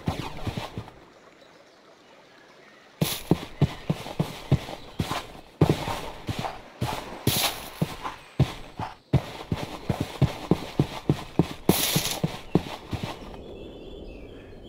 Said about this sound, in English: it will also change the way your footsteps sound